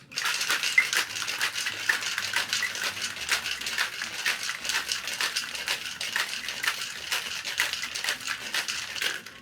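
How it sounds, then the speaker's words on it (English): A metal-and-glass cocktail shaker shaken hard for several seconds, giving a steady, dense rattle of ice against the walls with rapid rhythmic pulses, loud and close with no voices. "Hold on to the metal part at the bottom, the glass on top, and shake it for about 8 seconds."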